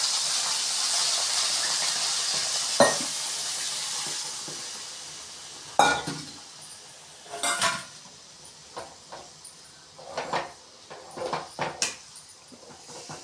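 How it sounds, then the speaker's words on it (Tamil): A ladle stirs beetroot poriyal in a pan for a Tamil recipe, giving close, irregular metallic clatters and scrapes over a soft sizzling hiss that fades as the stirring goes on; no one speaks. "கரண்டி வச்சு இது மாதிரி நல்லா கிண்டி கிளறி விட்டுக்கோங்க."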